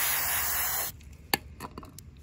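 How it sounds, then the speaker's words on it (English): Spray adhesive hisses from an aerosol can in one sustained burst for about a second while a travel watercolor palette is being made. After it stops, several light taps and handling clicks follow. "This spray adhesive I'm obsessed with."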